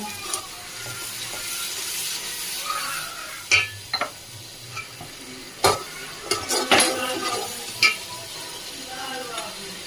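Masala of chilli, cumin and coriander powder being stirred for biryani in a pot, with scraping strokes, light sizzling and a few sharp clinks of a spoon against the metal rim.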